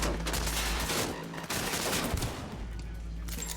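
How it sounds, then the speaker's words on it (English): Revolver fire in Cyberpunk 2077, hard close shots tangled in a dense spray of gunfire and rumble, loud and continuous across a few seconds with no speech. "this revolver hits so hard."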